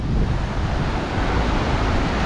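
Surf breaks on a clean sandy beach with a heavy, continuous roar, mixed with wind rumble against the microphone and no voices.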